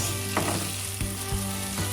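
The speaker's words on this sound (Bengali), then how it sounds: "সবজি যে ভাজা প্রায় শেষ" Chopped vegetables fry in a pan for a rainy-day village vegetable khichuri, giving a steady close sizzle broken by a few soft stirring knocks, with no talking.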